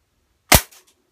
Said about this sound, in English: I'll shoot this and see how much destruction it gets.